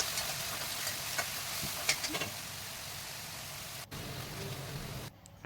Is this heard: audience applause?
no